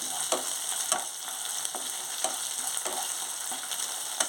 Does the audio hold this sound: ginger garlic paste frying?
yes